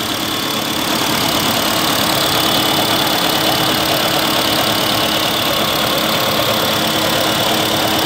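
A small, cheap four-seat petrol car's engine idles steadily and close up, giving a continuous even hum with a faint mechanical rattle and no pauses or revving.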